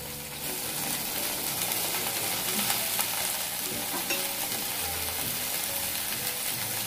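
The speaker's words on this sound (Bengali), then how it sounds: "এখন এগুলোকে একটু ভেজে নেব।" Potatoes and cauliflower with turmeric and salt fry in a pan, a steady, even sizzle with soft stirring scrapes throughout, close and continuous with no talking.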